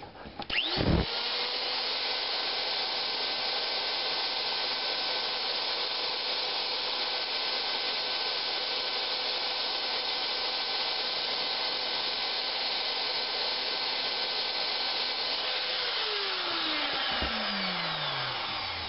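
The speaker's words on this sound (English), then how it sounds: "And go ahead and grind it." A Glock 23 Gen 4 trigger part being ground with a small power tool: a motor spins up sharply, holds a steady high whine under contact for long seconds, then winds down at the end.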